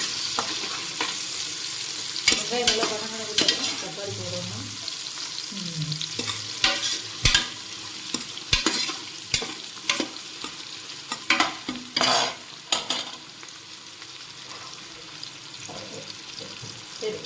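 Sliced onions frying in oil in a pan for chicken biryani, a continuous sizzle broken by frequent scraping and clanking as a ladle stirs them, some strokes sharp and loud, with brief faint voice-like sounds.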